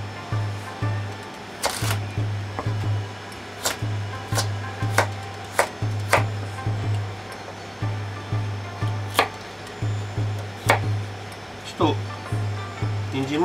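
Knife chopping carrots into small pieces on a cutting board, a steady run of sharp, close taps with short pauses, while a low hum runs underneath throughout.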